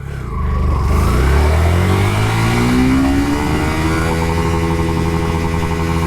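A Yamaha FZ S V2 motorcycle engine revs hard in first gear, loud and close, its pitch climbing steadily for a few seconds and then holding at a high, strained drone with no voices.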